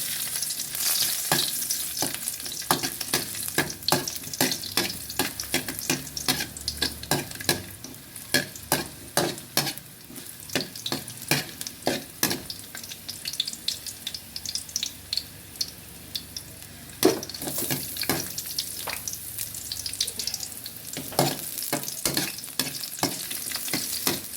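Liver frying in a hot pan for adobong atay, a continuous close sizzle broken by frequent scraping stirs and clatters of a utensil against the pan.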